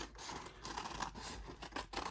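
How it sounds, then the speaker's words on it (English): Small scissors snip through packing tape for an eBay envelope label, a steady scratchy rasp of cutting running continuously for about two seconds, close and alone. "Preferably, bigger scissors, but this is what I got my hands on right now. So now the step is to cut it."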